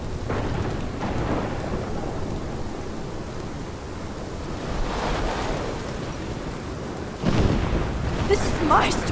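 A thunderstorm in the Life is Strange video game: steady heavy rain with rolling rumbles of thunder, and a louder thunder burst near the end.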